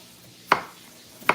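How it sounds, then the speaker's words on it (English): A knife rough-chops potatoes on a cutting board in a home kitchen, two sharp, close chops about three quarters of a second apart. "We're just rough chopping these potatoes, just making them the same like width, so they cook pretty much evenly"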